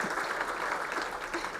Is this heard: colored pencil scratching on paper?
no